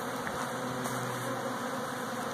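Honey bees fly around a hive, a steady close buzzing hum with no voices.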